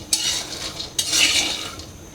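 Peanuts roasting dry in a pan are stirred with a utensil, giving two loud, close scraping sweeps with a rattling, hissing texture between them.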